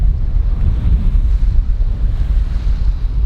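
Steady wind buffets the microphone with a deep continuous rumble while small sea waves wash against a sailboat in an archipelago, loud and unbroken throughout.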